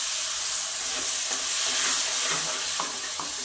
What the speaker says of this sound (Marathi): छान अशी आता परतून घ्यायची आपल्याला भाजी कमी गॅसवरती